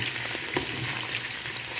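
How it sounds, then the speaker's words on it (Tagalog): An egg frying in hot olive oil, with a steady close sizzle and scattered sharp pops of spattering oil from water in the pan. "So, tumitilamsik siya mga sangkay kasi may ano siya, tubig."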